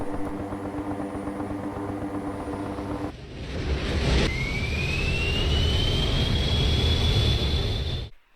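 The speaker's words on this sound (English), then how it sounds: "This is the North American OV-10 Bronco. It's a twin turboprop light attack and reconnaissance aircraft." North American OV-10 Bronco twin-turboprop light attack aircraft flying low in Microsoft Flight Simulator: a steady engine drone shifts midway into a louder rushing roar with a rising whine that climbs, then cuts off abruptly near the end.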